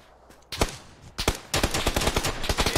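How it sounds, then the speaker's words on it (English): QBU marksman rifle fire in the PUBG video game on Xbox Series S: a string of loud, rapid gunshots in uneven bursts, the pace quickening toward the end, with no voices. "I'm getting shot at by QBU though, across the way."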